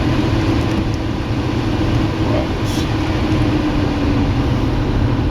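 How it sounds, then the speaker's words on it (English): Electric fan running nearby as a steady, loud broadband whoosh with a low hum throughout, filling the room with constant airflow noise and no pauses. "let me turn this fan down a bit here"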